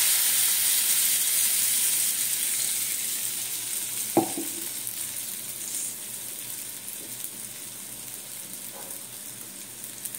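Mung dal sizzles steadily in hot oil over asafoetida while a kachori filling is cooked, a close, even frying hiss with a single clink of a spoon partway through and no talking.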